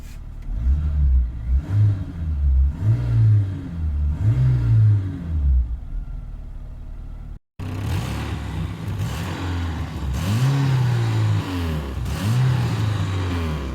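A ZAZ Tavria (1102/1103) petrol car engine cranks and catches, then runs and revs in rising and falling surges, with a brief cut partway through before steady idling and further revving resumes close by.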